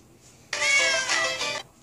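A cat gives one long, loud, drawn-out meow close up, wavering in pitch before ending, with quiet room tone around it.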